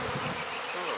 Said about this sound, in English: Sometimes. A lot of bees.